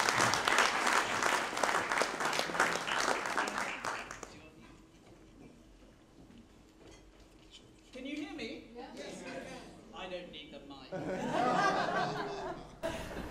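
A crowd applauds loudly for about four seconds before the clapping fades; soft chuckles and murmured talk follow, then a second burst of louder laughter and applause near the end.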